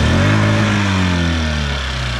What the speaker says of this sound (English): So now it's getting a solid idle now. Yeah, super quiet, clean motor.